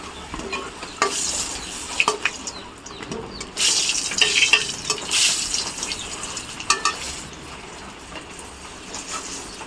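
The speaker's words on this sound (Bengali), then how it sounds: "পটলগুলোকে ভাজছি।" Pointed gourd (potol) frying in a pan, with a steady sizzle and repeated scraping stirs, including a few louder bursts of spatter, close and with no talk.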